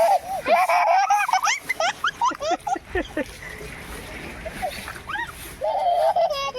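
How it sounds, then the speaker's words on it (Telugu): Children splashing water while playing in the rain at home, with splashes scattered among their loud excited shouting, chatter and laughter close by. "మమ్మీ వాళ్ళ బావ మీద నీళ్ళు విసురుతాను."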